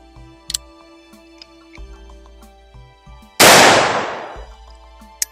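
One loud, close black powder shot from a Colt Walker revolver, a sharp blast with a long ringing decay, set against quiet ticking and small handling noises.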